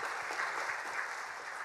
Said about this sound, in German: Vielleicht geben wir da mal vorab schon mal einen Applaus dafür.